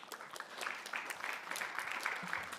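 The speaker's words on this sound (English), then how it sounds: "So give them a round of applause." An audience at a business event claps in a moderate, steady round of applause, fairly even and sustained with no voices over it.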